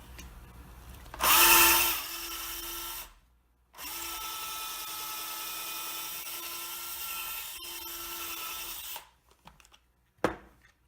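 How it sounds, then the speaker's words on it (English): A power drill pre-drilling a hole in a wooden wagon wheel whines steadily in two long bursts with a brief pause between, then a few short clicks and taps as it winds down. "Pre-drill a hole."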